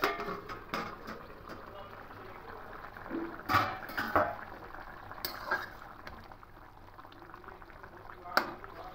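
Potatoes simmer in water in a covered pan, a low steady bubbling with occasional louder pops and clinks, fairly faint under background room noise.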